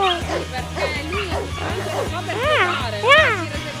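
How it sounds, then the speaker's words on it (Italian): A small dog with leg problems barks in quick yips and lets out whining whimpers, close and lively throughout, while people talk excitedly over it. "Il cagnolino con problemi alle zampe è pronto subito a giocare con chiunque."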